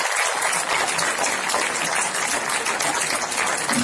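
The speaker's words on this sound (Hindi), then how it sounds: "मैं आप सबसे आग्रह करता हूं ताली बजाकर उनका अभिनंदन करें" A political party gathering's audience claps steadily in welcome of the party president, a dense, continuous wash of applause from a large crowd, filling the space evenly throughout without pauses.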